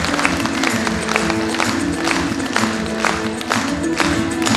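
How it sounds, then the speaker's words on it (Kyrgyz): Steady, dense clapping from an audience at a Kyrgyz aitysh, an improvised poetry duel on stage, sustained at an even level for the whole stretch with no voices over it. "Кол чаап коюңуздар."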